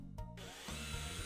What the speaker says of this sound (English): Secure the drywall to the tracks using drywall screws.